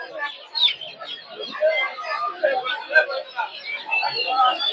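Roosters, hens and chicks at a busy poultry market, with steady clucking and chirping calls mixed into crowd chatter and background voices throughout.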